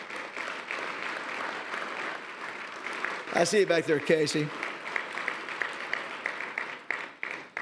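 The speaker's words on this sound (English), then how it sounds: "Let's give him a round of applause." Audience applause at an annual award ceremony, a steady wash of clapping that runs throughout while someone speaks briefly over it near the middle.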